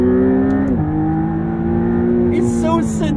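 A McLaren Artura hybrid supercar engine hums steadily while driving, dropping in pitch with a gear change partway through, heard close from inside the cabin.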